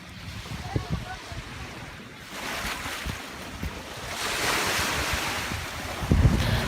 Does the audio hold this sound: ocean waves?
yes